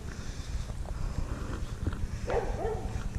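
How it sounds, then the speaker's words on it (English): A dog barks at children in a backyard garden during cleanup: a few faint, distant barks and whimpers sound over steady outdoor background noise with no talking. "oh, dog's barking at kids."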